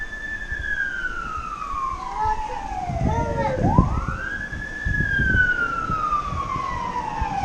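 A fire truck siren wails as it approaches and passes on a rainy day in a hilly rural area, its pitch sweeping down and then rising again, loud and continuous over a steady rain-like hiss.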